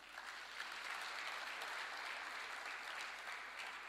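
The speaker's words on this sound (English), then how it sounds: "Can I please request that we give Zanaki Girls Secondary School a round of" An audience at the Thabo Mbeki Africa Day Lecture in Dar es Salaam applauds a girls' secondary school, with dense, steady clapping that stays loud and even for the whole stretch.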